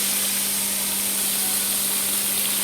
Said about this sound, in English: I'm going to flip every 1 to 2 minutes to even frying and coating.